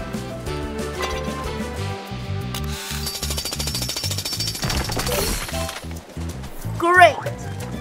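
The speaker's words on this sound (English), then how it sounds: "Use Rubble's drill to clear the rock away." Rubble's drill pounds away at rock in the Paw Patrol Mighty Pups video game, a loud rapid hammering over bouncy background music and game sound effects.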